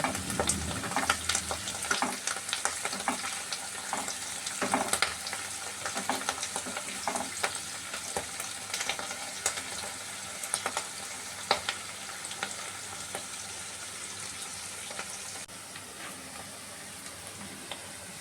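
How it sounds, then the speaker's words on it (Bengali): Onion greens frying in mustard oil with cumin seeds crackle and hiss steadily at a moderate level, with stirring clatter near the start and occasional pops. "পেঁয়াজকলি ভাজছি,"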